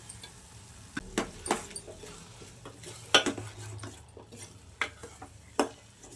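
A spoon clinks and scrapes against a pan while sambar powder and tamarind juice are stirred together, giving irregular metallic taps and knocks over quiet background hiss.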